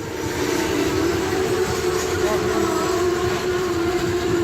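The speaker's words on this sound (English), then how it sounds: "sat on the tracks in Omsk, Russia, until a train struck it" A train rumbles past steadily and loudly at close range, with a continuous roar and rail noise that fills the whole stretch; no separate crash stands out, and the car it strikes near Omsk, Russia is not heard.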